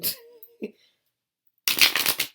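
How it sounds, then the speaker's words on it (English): Tarot cards are shuffled in a brief riffle, then a quiet pause before a longer, louder burst of rapid card flutter close by. "Let me shuffle again."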